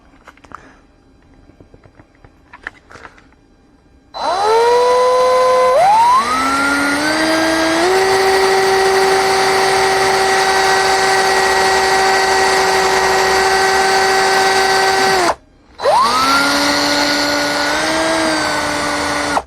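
A power drill whines up to a high, steady run for several seconds, briefly cuts out, then spins up again; loud and close.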